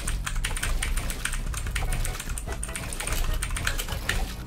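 Rapid, continuous keystrokes on a gaming keyboard during Fortnite play, a dense close clatter of clicks with no pauses and no talking.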